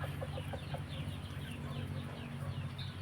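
Chickens cluck in a short series of soft repeated calls over a steady low hum and background noise.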